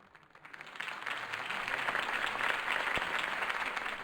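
A crowd in a Batman video game applauds after a campaign speech, the clapping rising from quiet to a steady, broad roar of many hands that holds throughout.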